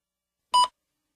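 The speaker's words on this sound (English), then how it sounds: "Please begin speaking after the beep." A single short electronic beep marking the start of a TOEFL speaking response, clean and isolated against silence.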